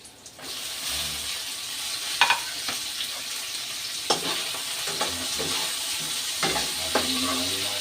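Shredded chicken frying in a pan for chop suey, a steady close sizzle with a few sharp stirring scrapes and clinks scattered through, no voices.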